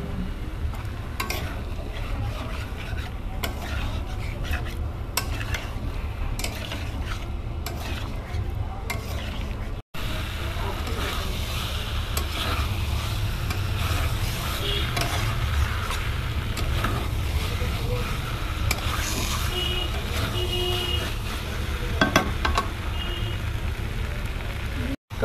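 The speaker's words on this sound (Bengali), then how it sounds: "দিয়ে ভালো করে কষিয়ে নেবো ডিম আর আলুটা একসাথে।" Fried egg and boiled potato sautéed together in masala in a pan for a Bengali egg curry: continuous frying sizzle with repeated spoon scrapes and stirring clatter close by, with no one talking.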